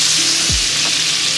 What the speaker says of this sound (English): Now we're going to add our blackened fish.